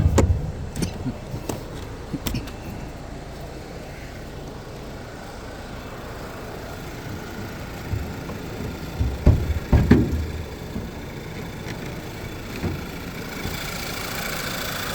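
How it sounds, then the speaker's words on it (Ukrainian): A Skoda car engine idles steadily nearby, a constant mechanical hum broken by occasional louder clunks and rattles. "чиста робота двигуна"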